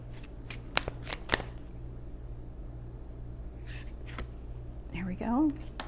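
Tarot cards are shuffled with several quick riffles and slaps close by over a low steady hum, followed by a brief murmured voice at the end.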